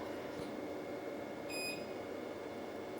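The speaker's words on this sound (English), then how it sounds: "what happened is you heard that little beep" An xTool P3 laser machine gives one short, faint electronic beep as it connects to its software, standing out against a steady hum of room noise and fan.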